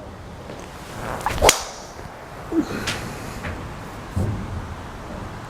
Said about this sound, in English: nice opening tee shot there